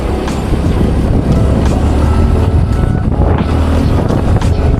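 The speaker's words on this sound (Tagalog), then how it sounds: "Sarap ng hangin dito" Wind roars across the microphone during a motorcycle ride on the Talisay–Sungay road in Tagaytay, a loud, constant buffeting rumble with a low engine drone underneath and no voices.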